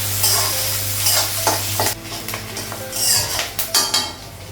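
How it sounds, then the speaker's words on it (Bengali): Onion frying with panch phoron and green chili in a pan, a steady close sizzle broken by repeated scraping strokes of a spatula and light metallic clinks, with no voices. "পেঁয়াজটা একটু লাল করে ভেজে নেব"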